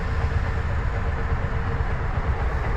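A steady, fairly loud rumble of a metro train at RV College metro station, a continuous low roar with faint rail clatter and no voices.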